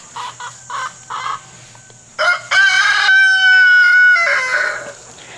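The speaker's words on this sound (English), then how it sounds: "I'm not chasing a chicken right now." Chickens on a warm summer farm: several short clucks, then a loud, close rooster crow with a long drawn-out tail, no voices.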